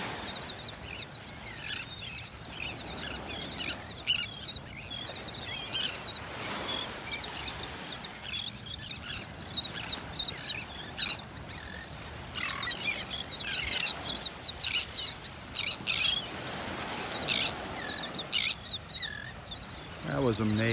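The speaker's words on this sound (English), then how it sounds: "And the birds following after it." Many seabirds calling over a beach in North Naples, Florida, as they follow a huge school of fish moving along the shore; a busy chorus of chirps and squawks mixed with surf and wind, with someone talking at times.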